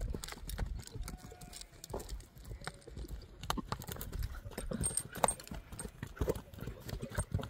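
A horse moves about at a horse market, its hooves clip-clopping irregularly on the ground at a moderate distance, with scattered knocks and faint background crowd noise.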